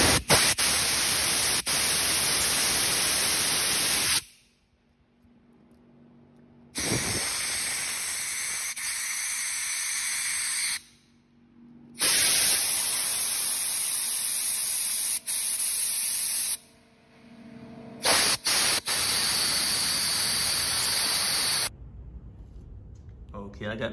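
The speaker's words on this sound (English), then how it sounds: "you wanna make sure you blow through all the jets that you took out the carburetor" Compressed air is blown through the holes and jets of a carburetor from a 2005 Honda CRF250R during a cleaning job, giving four loud, sustained hissing bursts of several seconds each, separated by short quiet pauses.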